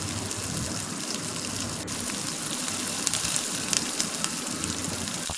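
Water bubbling in a pot of potato kurma as it comes to a boil, a steady close gushing, trickling simmer with small pops and spatters throughout, no voices.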